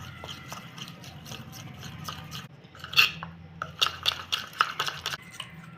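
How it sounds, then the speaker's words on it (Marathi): Poha dough with four spoons of oil and four spoons of flour whisked in a bowl: light, rapid clinks and scraping taps of a utensil against the bowl, growing busier toward the end, close and fairly quiet. "तेल पण चार चमचे घालूया आणि हे फेटून घेऊया"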